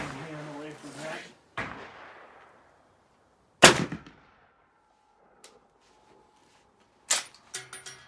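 An M95 Mannlicher rifle fires amid scattered sharp cracks, with a voice talking at the start and a few separate loud reports spread over several seconds outdoors.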